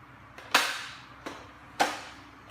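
A Nerf toy blaster fires foam darts from a magazine at toy Transformer figures, giving three sharp pops, the middle one softer, spaced roughly a second apart with no talking.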